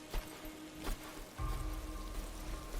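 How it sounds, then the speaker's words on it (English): Rain in the video game Darksiders, a faint, steady patter and hiss of falling drops, broken by a couple of brief soft knocks before a low rumbling swell joins midway. "And now suddenly raining."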